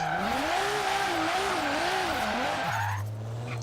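Car drifting with a clutch kick in Forza Horizon 3: loud engine whine wavering up and down through the slide with tire squeal layered over it, then dropping to a lower steady drone near the end; no talking.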